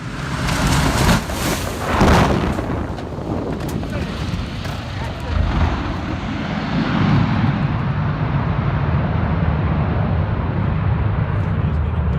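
A Douglas DC-6 lands in Alaska as its wheels fly off, filling the scene with a loud, rumbling engine roar and heavy wind buffeting that eases into a steady low drone.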